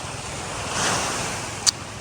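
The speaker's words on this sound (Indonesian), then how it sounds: "Itu sana ombaknya gede tuh." Big ocean waves surging onto a quiet beach on the west coast of Aceh, a continuous broad roar of surf swelling briefly, with wind buffeting the microphone and a short sharp click near the end.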